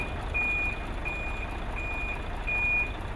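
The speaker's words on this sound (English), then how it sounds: "truck is now being loaded, and this is happening around 9 p.m." A truck reverse alarm sounds being loaded at night at the port of Mombasa: four evenly spaced steady beeps over a low, constant engine and yard rumble.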